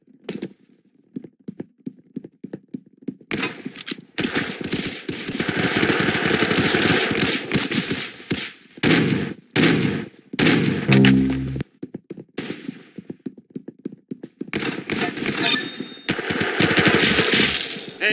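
Rapid automatic gunfire from the Roblox game Arsenal crackles in loud, dense bursts with brief gaps, plus a few single shots, with no talking.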